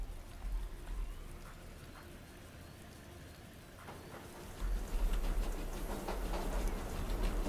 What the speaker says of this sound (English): Stop the train over here.